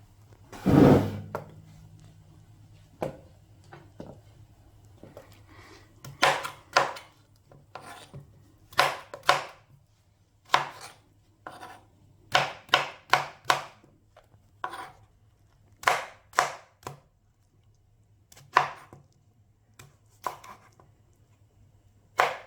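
Breadfruit being diced on a cutting board for Jamaican chicken soup: a knife thuds down in irregular bursts of sharp chops with pauses between, close and clear with no talk.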